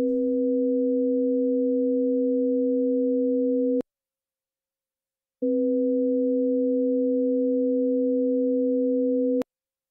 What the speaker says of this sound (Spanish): Veamos su inversión, el intervalo de séptima mayor, de do a si, tonos simples.